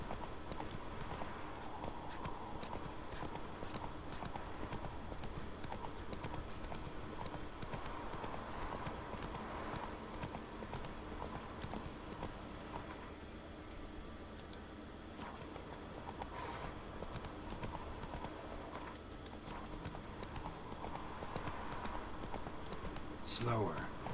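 A horse's hooves clip-clopping at a steady rhythm in The Witcher 3: Wild Hunt, continuing throughout under game music and a person talking, with occasional whinnies.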